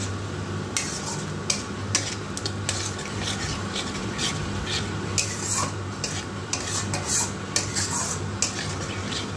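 Utensil stirring fish egg curry with coconut milk in a pan, steady soft scraping with light clinks and a faint low sizzle underneath, close and continuous with no talk.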